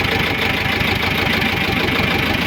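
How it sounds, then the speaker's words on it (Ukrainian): A T-25 tractor engine idles loud and close, a steady rapid knocking thrum with even rhythm and no voices over it. "Ну отак, як працює двигун."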